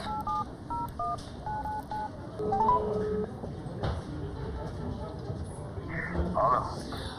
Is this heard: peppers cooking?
no